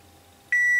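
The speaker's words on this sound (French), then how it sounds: "Dès que ça va biper, c'est la bonne broche." After a brief quiet moment, a sharp, steady continuity beep from an ohmmeter testing an electric scooter's Hall effect throttle begins abruptly and continues, loud and close.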